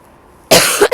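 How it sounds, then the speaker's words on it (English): A single sharp, loud cough bursts out close to the microphone after a quiet moment, followed by a brief second catch of breath. "I've only got a cough though."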